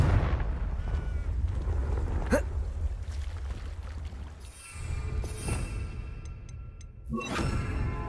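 A Confringo fire spell blast in the video game Hogwarts Legacy, whooshing fiery bursts and explosive booms amid rumbling game effects, with a sharp flare near the middle and another near the end.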